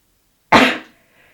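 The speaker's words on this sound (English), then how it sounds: "I'm going to sneeze" A single sharp sneeze-like burst from a person indoors, sudden and fairly loud, decaying quickly into silence with a faint trailing breath.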